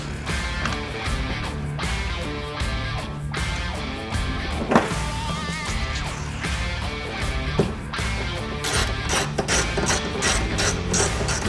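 A hand ratchet tightens a factory bolt holding a rack bracket on a 2016-2021 Toyota Tacoma, a steady stream of rapid clicking pawl strokes, close and continuous, with a few sharper knocks in between.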